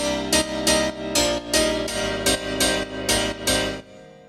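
Two layered house pianos, one voiced an octave above the other, hammer out bright stacked chord stabs in a bouncy syncopated pattern, loud and clean before ringing out briefly at the end.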